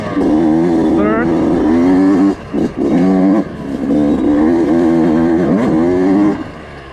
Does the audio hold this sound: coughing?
no